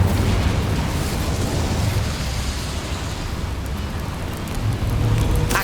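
A fiery Incendio spell from Hogwarts Legacy roars as a sustained, dense whoosh of flame lasting several seconds, loud and alone without speech.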